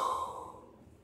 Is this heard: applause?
no